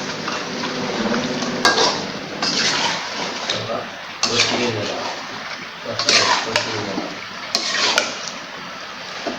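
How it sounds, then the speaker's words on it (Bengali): Meat being stirred and sautéed in a pan for an Eid home meal, with sizzling and frying crackle, scrapes of a spoon against the pot in bursts, and a voice talking over it. "এখন আমি মাংস দিয়ে এর ভিতরে একটু কষাবো"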